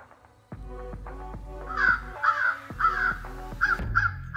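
Electronic crow call playing recorded crow caws outdoors during a crow hunt, a series of harsh repeated caws starting softer and growing louder, with several calls overlapping near the end.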